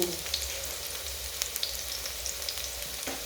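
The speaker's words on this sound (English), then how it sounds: "I'm going to put the garlic and onions." Garlic and onions fry in a pot with a steady, close sizzle and crackle, small pops scattered through and no talking.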